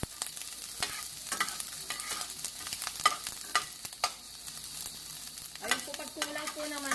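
Onions frying in olive oil for vegetable egg rolls crackle with a faint, steady sizzle and scattered sharp pops, and a brief tonal sound rises near the end.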